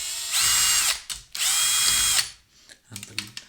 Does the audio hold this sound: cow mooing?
no